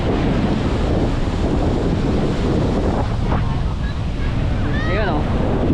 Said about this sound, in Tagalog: Tapos ang lakas pa ng hangin.